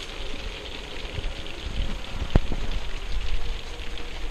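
Rain falling outside an RV, a steady patter with soft drops hitting the surface and one sharp knock midway.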